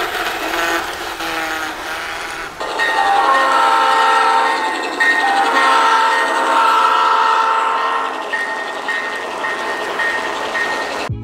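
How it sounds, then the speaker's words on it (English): A miniature garden railway train in Philadelphia rumbles along the track, with steady mechanical whirring and clattering and a few short whistle-like tones, continuous and fairly close. "Oh, there it is, choo-choo trains."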